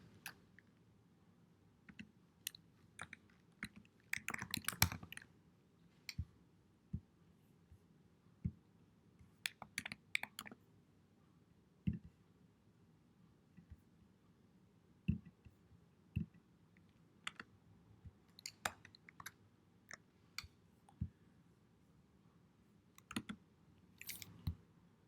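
Computer keyboard typing, with scattered bursts of key clicks and clatter at an irregular, moderate pace, a denser flurry near the start, set against a faint low background hum.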